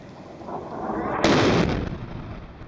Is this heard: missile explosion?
yes